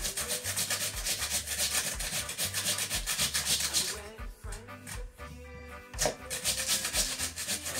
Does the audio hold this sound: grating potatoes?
yes